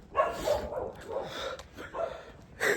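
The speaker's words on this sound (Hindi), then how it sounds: "कुत्ता देखो, डरावना कुत्ता है पूरा यार।" A dog barking and yipping repeatedly along a road in Hungary, sounding fairly close and agitated, with short bursts spread across the moment.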